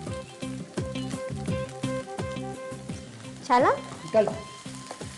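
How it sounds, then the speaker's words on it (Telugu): Boiled noodles hit a hot pan and are stir-fried, a soft sizzle with scraping stirs as a spatula moves through them, under faint background music and a short spoken remark. "ఉడకబెట్టిన నూడిల్స్ వేసుకుంటున్నాం కదా."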